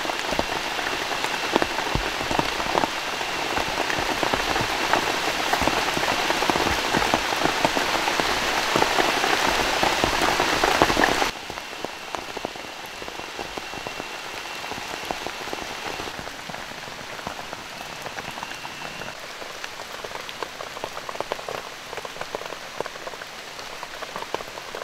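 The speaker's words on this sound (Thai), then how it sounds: "ฝนตกแรงขึ้นนะ" Heavy rain pours steadily in a forest survival camp, a dense continuous hiss that is loudest for the first half and then eases slightly but keeps drumming on.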